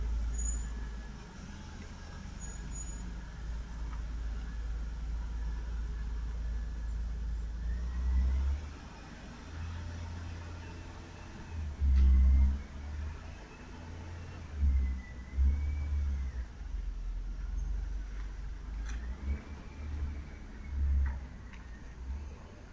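A car engine rumbles low and steady throughout, swelling louder in several spots as the vehicle drives, with faint ticking in the background.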